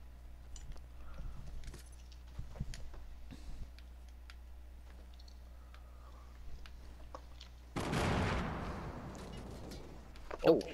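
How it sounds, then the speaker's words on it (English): Gunfire from the Fortnite battle royale game, a sudden dense burst of rapid shots rising to a loud sustained barrage after a stretch of quieter ticks and faint clicks, with a sharp final crack. "Oh, fuck, I'm getting shot at."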